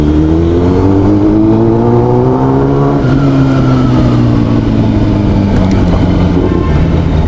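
A Kawasaki ZX10R motorcycle engine revs loud and close, its pitch rising and dipping steadily with no break or talk.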